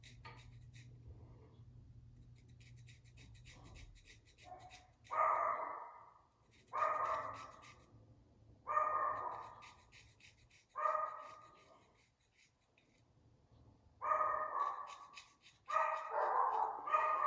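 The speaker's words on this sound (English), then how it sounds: "Don't mind the dogs barking in the background." Dogs barking in the background, a series of about six bark bursts at fairly regular intervals, moderately loud but somewhat distant, with no talk over them.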